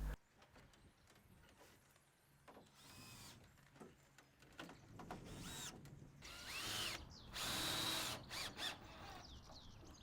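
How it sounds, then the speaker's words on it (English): A power drill drives screws through roof boards into the rafters of a garden room roof, giving several short whirring bursts between quiet pauses, with the longest and loudest runs near the end. "I'm going to get them screwed down into the rafters."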